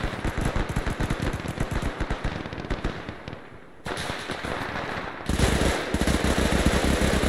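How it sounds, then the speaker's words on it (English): Machine gun fire in a combat video game with British commandos rattles in dense, rapid bursts, with brief pauses and shifts in loudness between volleys and no talking. "Where did that machine gun go?"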